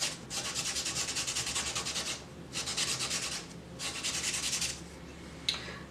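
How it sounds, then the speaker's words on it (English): Sandpaper rubbed back and forth over a colored surface smoothed with Gamsol, three long bursts of steady rhythmic scratching strokes separated by short pauses, close and alone. "if I have too much color, I'm going to use my sandpaper"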